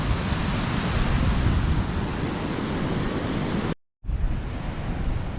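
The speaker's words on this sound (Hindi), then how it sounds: "वो आप देखें आगे कैसे स्मूथ पानी इसका चल रहा है," A mountain stream zigzags down a channel on a Gilgit trek, giving a loud, steady broadband rush with a brief dropout near the end before the flow resumes.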